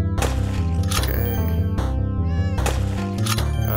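A cat in the video game Guns And Swords And Kitties meows several times, loud and close, over a steady tonal game music bed.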